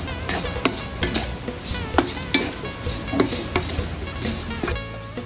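A spoon stirring salt and seasoning in a cooking pot, with repeated clinks and scrapes against the pot over a steady sizzling background, close and without talking.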